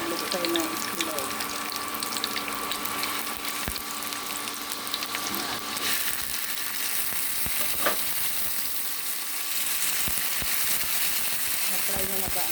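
Boiled eggs sautéing in a pan: a steady, fairly quiet sizzle and frying crackle with occasional clinks and scrapes of stirring, continuing throughout.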